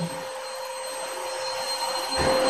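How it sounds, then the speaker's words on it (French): A vacuum cleaner runs steadily in the background indoors, a constant whining drone with a steady tone that holds at an even level from start to finish, with no talk. "désolé s'il y a l'aspirateur qui tourne"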